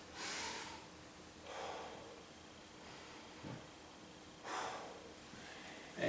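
Deep, audible breaths during recovery in a martial arts workout: several slow inhales and exhales through the nose and mouth, close, airy and fairly faint, with pauses between them.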